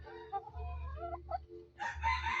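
A mestizo Texas-breed rooster caught in the forest crows once, loud and close, followed by a second harsh call, with a low steady hum beneath.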